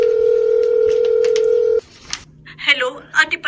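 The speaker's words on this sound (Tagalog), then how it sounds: "Sa cellphone ko nga siya tatawagan." A cellphone emits a long, steady dial tone, then a quick run of keypad tones sounds as a number is dialed, close and clear, with a brief gap of quiet between them.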